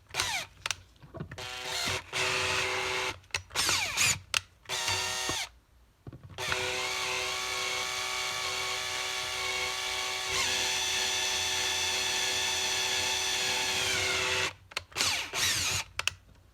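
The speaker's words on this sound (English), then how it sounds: "nice and easy drill out your hole." A power drill whirs in short bursts at first, then runs steadily for about eight seconds drilling out a metal hole for a Heli-Coil thread insert, stopping briefly before more quick bursts near the end.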